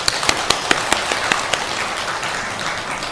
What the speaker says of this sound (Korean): 우리 감사의 박수 한번 드리겠습니다.